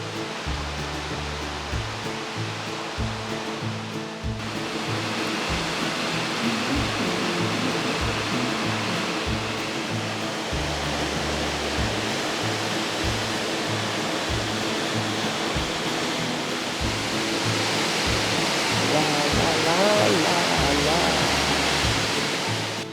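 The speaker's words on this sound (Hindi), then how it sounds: "ये जलधारा है जो यहाँ से नीचे उतरते हुए चट्टानों को चीरते हुए पानी आगे बढ़ रहा" A stream of water pours down over rocks below a Satnari waterfall on a hillside near a tribal village in Balaghat, giving a loud, steady, broadband rush that fills the whole stretch without a break.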